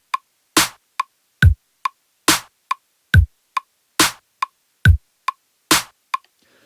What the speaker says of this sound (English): Let's get a little metronome going and let's just listen and get a feel for that pulse